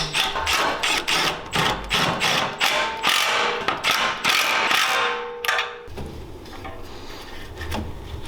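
Rapid ratchet clicks in quick bursts as a ratchet with an extension turns bolts during a Honda Talon rear bumper and hitch install, loud and close, ending in quieter handling noises.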